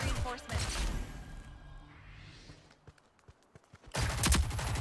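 Gunfire rattles in a Rogue Company match: a loud burst of rapid shots opens, gives way to quieter scattered pops and faint movement, then another loud volley of shots breaks out at the end.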